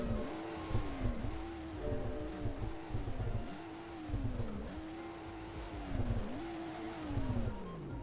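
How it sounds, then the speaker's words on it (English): A 2018 BMW 340i's twin-turbo straight-six revs repeatedly at a standstill, each blip rising and falling in a steady series of loud, close engine swells. "Yes, get some revs here."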